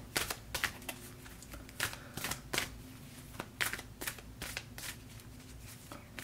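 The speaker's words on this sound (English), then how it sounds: "I'm going to draw an oracle card for you." A deck of oracle cards being shuffled, with a rapid series of crisp papery riffles and slaps in irregular bursts, close and fairly quiet, with no talking.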